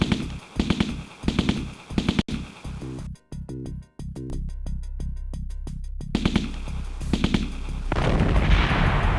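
Rapid bursts of gunfire from the video game Aliens: A Comic Book Adventure, loud repeated shots in clusters with a steadier run of evenly spaced blasts in the middle, over a low game hum.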